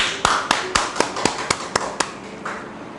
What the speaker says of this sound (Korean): 자, 우리 하나 배영광에 박수 칩니다.